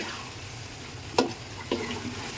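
Shutki (dried fish) frying in oil in a pan, a low continuous sizzle with two sharp stirring or scraping clatters partway through.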